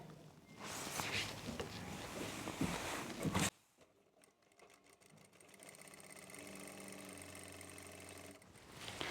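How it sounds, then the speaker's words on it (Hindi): A sewing machine stitching the back seam of a sharara runs in a steady mechanical whir, quiet and close, with a louder burst of handling noise before the motor settles into an even rhythmic hum. "सबसे पहले हम बैक हिस्से में इस तरह से आसन की सिलाई लगाएंगे।"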